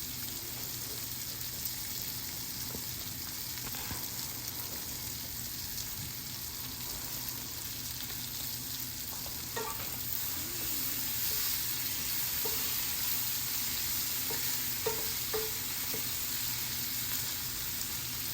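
Okra frying with spices and coriander leaves in a pan, a steady close sizzle running throughout while a spoon stirs, with occasional soft scrapes and taps against the pan.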